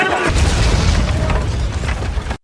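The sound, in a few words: dynamite explosion in a film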